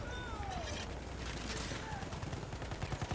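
Gunfire from the Battlefield 1 video game crackles as a steady rattle of rapid shots beneath a dense battle soundscape, with the bursts growing more distinct toward the end.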